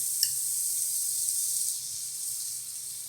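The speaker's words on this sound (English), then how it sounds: "Okay, you got this going, it's nice and hot. We're gonna go onions straight in." Onions dropped into a hot pan for chile verde give a steady, bright sizzle that hisses evenly throughout, fairly close and without talk.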